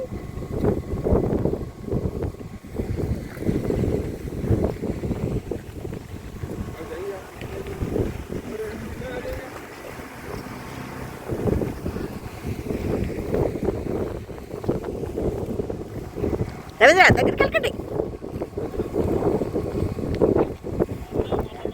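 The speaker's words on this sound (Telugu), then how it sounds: "మధ్యలో మీకు గాలి సౌండ్ కూడా వినిపిస్తాను చూడండి" Wind blows across Avuku reservoir in Kurnool, a low, gusty rumble buffeting the microphone throughout, rising and falling in strength while a person talks over it at times.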